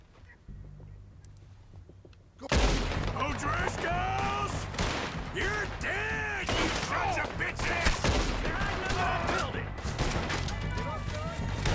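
Rapid gunfire in the video game Red Dead Redemption 2 bursts in loudly after a quiet start, with dense overlapping shots, sharp cracks and other game sounds continuing throughout.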